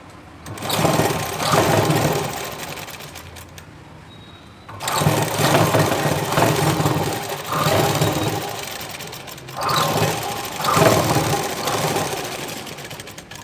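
Sewing machine stitching a blouse, running in two long bursts separated by a brief pause, a steady close motor whir with the needle's rapid rhythmic chatter.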